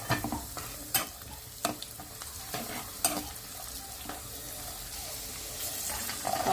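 Cashews and raisins fry in ghee in a pan, a soft continuous sizzle broken by sharp scraping stirs of a spoon against the pan at irregular moments.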